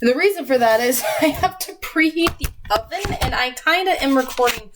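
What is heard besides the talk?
No distinct noise like a dog, phone or traffic.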